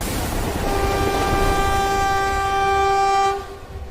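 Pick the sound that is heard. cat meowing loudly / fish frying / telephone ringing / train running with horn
train running with horn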